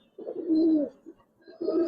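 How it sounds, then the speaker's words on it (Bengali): Giribaz pigeons in a loft give two clear, close cooing phrases separated by a short pause, soft and throaty with no talking. "এগুলা খুব ভালো ভালো কবুতর।"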